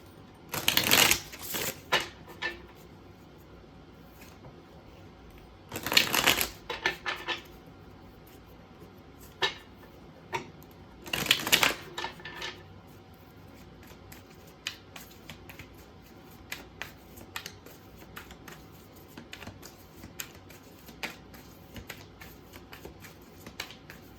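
Tarot deck shuffled in three loud riffling bursts, then quieter ticks and flicks as cards are handled and pulled, close and with no voices.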